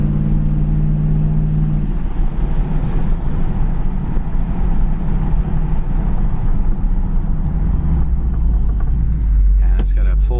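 A blue 1973 Chevrolet Camaro Z28 runs steadily on the road, its engine a continuous low rumble with a deeper surge toward the end as it accelerates hard; a voice talks over the drone throughout.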